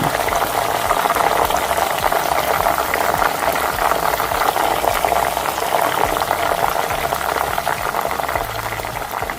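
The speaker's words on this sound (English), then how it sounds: "I just kept stirring and frying" Steady sizzling and bubbling of jollof rice sauce with bay leaves frying in a pot, continuous and fairly loud throughout with no talking.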